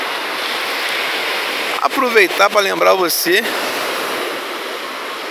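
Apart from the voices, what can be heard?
ocean waves breaking at Praia do Forte beach, Cabo Frio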